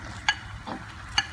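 Mussels tipped into a pan of softened, sizzling onions with grated garlic, pepper and salt give a faint, steady frying hiss, with two brief clinks of utensil against the pan.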